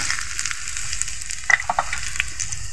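Chopped onion hitting hot soybean oil in a wok crackles into a steady, moderately loud sizzle, with a few sharper pops and spatters partway through.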